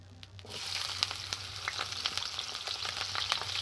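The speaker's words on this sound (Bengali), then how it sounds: "কড়াই আমি সর্ষের তেল দিয়ে দেবো আর দেবো আমি পেঁয়াজ কুচো" Chopped onion sizzles and crackles steadily in hot mustard oil in a wok, with small pops scattered throughout and no voices.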